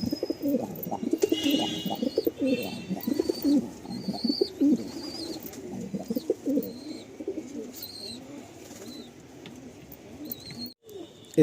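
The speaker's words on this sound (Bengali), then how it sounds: "পায়রাটা আমার লফটে" Pigeons in a breeding loft coo repeatedly in low, throaty, overlapping bursts, close and fairly loud, with a few high chirps from other birds in the background and no speech.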